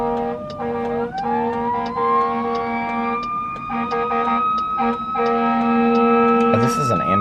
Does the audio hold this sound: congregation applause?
no